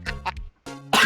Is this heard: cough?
yes